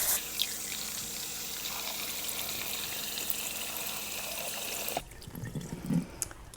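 Water runs from a kitchen tap over rice in a strainer, a steady hissing stream that cuts off abruptly near the end, leaving quieter splashes and drips.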